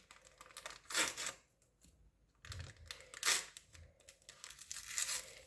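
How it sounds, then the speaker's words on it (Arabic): A paper sachet of baking powder is torn open and crinkled by hand while a simple home cake batter is mixed, with several quiet ripping bursts and rustles separated by short pauses, no voices. "وهنا نضيف الكيس هذا تاع الخميره الكيميائيه"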